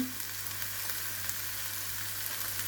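Pumpkin fries in a pan with a steady, even sizzle, close and continuous, while pasta is being made, with no voices.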